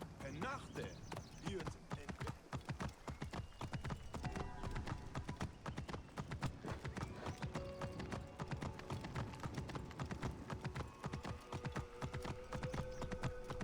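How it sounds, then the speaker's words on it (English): Horse hooves clip-clop in a quick, even rhythm in the video game Assassin's Creed Origins, steady and moderately close, with a voice talking over them. "Here's the horse."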